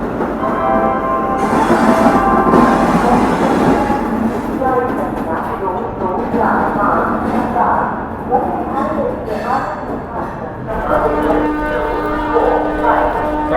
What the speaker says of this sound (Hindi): जैसे ही ट्रेन आती है तो भाई आपको ट्रेन का अराइवल दिखाते हैं।